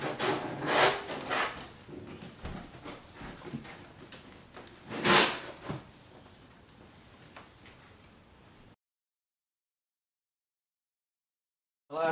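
End caps are pried off a LYNX trainer shipping box, giving scraping, rubbing and a couple of sharp cardboard-and-foam pops at close range, followed by silence.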